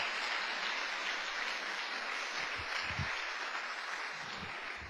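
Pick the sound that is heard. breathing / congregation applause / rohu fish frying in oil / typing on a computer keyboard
congregation applause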